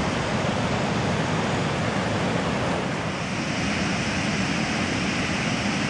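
Water pours steadily over the Ashton Mill Dam spillway, a dense, constant roar of rushing water that stays loud and even throughout, close by with no talking.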